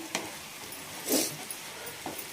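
A spatula scrapes green beans with salt around a pan for a Tamil bean poriyal: three soft, brief stirring swipes spaced about a second apart, quiet and close, with no talk.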